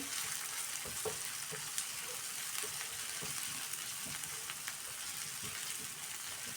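Finely chopped onion sautés in a pan, a steady moderate sizzle broken by frequent light stirring taps and scrapes, with no one talking.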